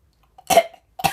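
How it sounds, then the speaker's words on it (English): A person coughs twice in quick succession, sharp and close, each burst short and rough with a brief throaty tail, in an otherwise quiet room. "I'm sitting here coughing and dying"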